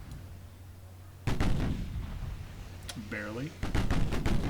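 Seven-inch naval guns fire in the warship game Ultimate Admiral Dreadnoughts, heavy booming blasts over a continuous low rumble, with a voice speaking briefly.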